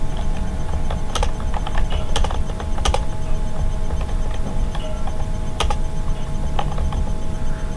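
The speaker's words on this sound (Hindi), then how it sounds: "जैसे मैं यहाँ टाइप कर देता हूँ," Computer keyboard typing while an online job application form is filled in, sharp key clicks in short irregular bursts over a loud steady background hum, near and clear.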